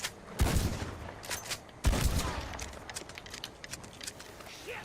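In the Red Dead Online game, a semi-automatic shotgun fires two heavy booming shots roughly a second and a half apart, each followed by a rolling echo that fades under ambient game noise.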